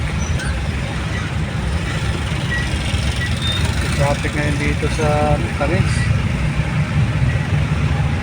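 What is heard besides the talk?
road traffic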